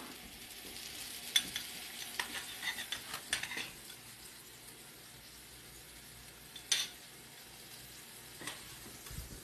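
Butter sizzles faintly in a pan as fish piccata cooks, a low steady hiss broken by a few sharp spatula clacks and pan taps.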